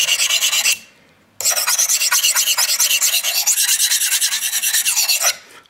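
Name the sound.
knife being sharpened freehand on a sharpening stone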